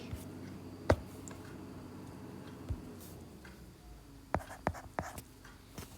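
Pencil writing math on paper at close range, a faint soft scratching with a few sharp taps and clicks scattered through, quiet and with no voices.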